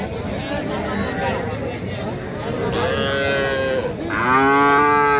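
Heifer calves of Friesian and crossbred cattle moo loudly at a weekly village cattle market in Ghoraghat, Dinajpur, with a long drawn-out low bellow near the end, over the murmur of a busy crowd talking.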